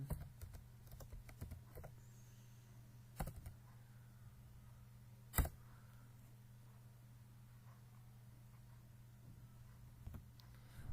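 Typing on a computer keyboard, with sparse, soft key clicks and a few louder taps scattered over a steady low hum, faint and close with no speech.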